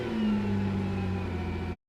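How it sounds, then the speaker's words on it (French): A damaged, rebuilt Nissan GT-R engine idling with a steady droning hum and tonal whine, close and continuous, cutting off abruptly near the end. "Le moteur tourne, c'est un bon début."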